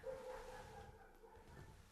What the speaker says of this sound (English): That barking is not soap, it's a street dog.